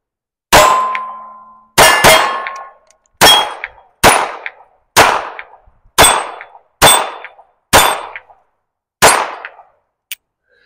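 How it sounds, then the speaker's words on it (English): A High Standard M-101 pistol fires at range targets: eight sharp, loud shots spaced roughly a second apart, each with a ringing metallic clang as the round hits steel, and a fainter final shot near the end. "this little pistol's shooting great"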